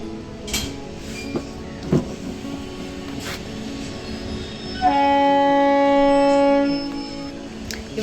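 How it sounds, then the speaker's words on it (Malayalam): A train runs near a railway station. Rumble and a couple of clanks come first, then a loud sustained horn for about two seconds, heard from a home terrace nearby. "അതുകൊണ്ടാണ് ട്രെയിനിൻ്റെ സൗണ്ടെല്ലാം കേൾക്കുന്നത്."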